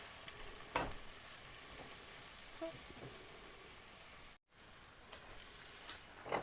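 Potatoes for Kashmiri dum aloo frying in a pan, a faint, steady hiss with a few soft stirring knocks and no voices.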